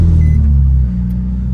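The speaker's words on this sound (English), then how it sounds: "and then you can start the car." A manual transmission car's engine runs with a loud, close low rumble that settles into a steadier, slightly quieter idle after a brief surge.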